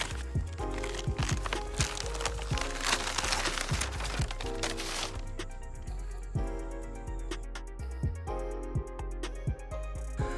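A paint stencil is peeled off a freshly painted curb, giving close crinkling, tearing and crackling sounds with sharp snaps in an uneven rhythm, followed by fainter rustles as the material comes away.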